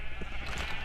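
A single short sheep bleat from Minecraft, close and fairly clear, lasting under a second.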